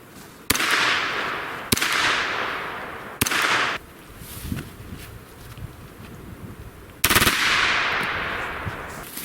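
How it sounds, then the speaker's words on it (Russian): Four sharp gunshot-like cracks, each followed by a hissing decay, spaced irregularly, loud and close, with a noisy wind-like background. "Пять выстрелов буквально за 1 секунду"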